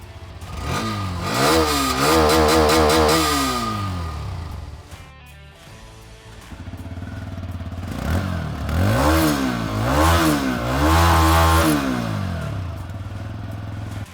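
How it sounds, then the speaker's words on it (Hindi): Two 125cc motorcycles, a Hero Xtreme 125R and a TVS Raider 125, rev one after the other, each single-cylinder exhaust note rising and falling in repeated throttle blips, loud and close, with a short quiet gap between the two bikes. "अब दोनों ही मोटरसाइकिल्स का आपने एग्जॉस्ट नोट सुन लिया है।"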